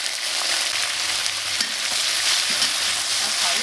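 Doubanjiang chili bean paste stir-fries in hot oil with scallion and ginger for braised beef hoof, a dense, constant sizzle up close with faint stirring movements.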